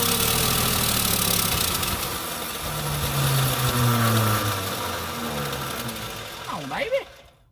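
An old Plymouth Duster engine, run after sitting two decades, with a partly clogged exhaust, runs with a rough, uneven idle and rattling knock, steady and close, with brief voices rising near the end.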